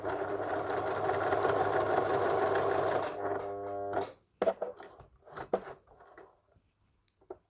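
A sewing machine stitching fabric straight forward for about three seconds, a close, steady rapid mechanical whirr that stops, followed by soft handling clicks and rustling.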